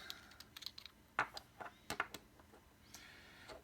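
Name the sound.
clicking buttons on Dovpo Odin Mini vape mod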